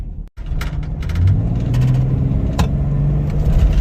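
Jeep Grand Cherokee driving after repairs, with a steady, moderately loud engine and road hum, a low tone rising slightly as it pulls along, with occasional light rattles from cargo in the back.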